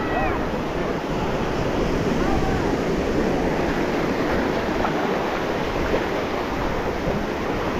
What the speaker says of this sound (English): the sound of the waves there, well, that right there is enough to really get you energized and going anyway.